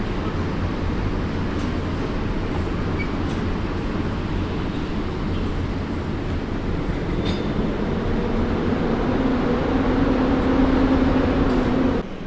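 A Polish EP09 electric locomotive hauls an Intercity train into Kraków Główny station, giving a loud, steady rumble and rail roar that lasts throughout and swells slightly near the end, with no voices.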